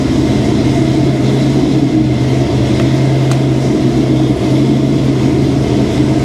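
A car engine runs at a fast, steady idle with a distributor advanced and not locked out, a loud, continuous droning hum with a constant low tone across the whole stretch.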